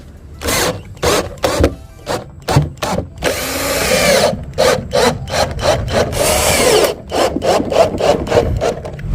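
A screw is driven into wood from the back to fix a wooden handle onto a homemade mini dustpan. Loud, close bursts of drilling and grinding stop and start repeatedly, with no talking.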